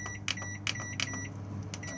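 A microwave oven in a 2021 Elddis Majestic 275 motorhome beeps on quick start, giving several short, sharp electronic beeps over a faint background hum.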